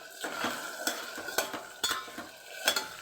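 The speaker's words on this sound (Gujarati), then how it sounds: "તો બટેટા સરસ તળાય છે" Potatoes sizzle in a pan while a utensil stirs and scrapes, producing repeated clinks and rustling bursts over a steady frying hiss.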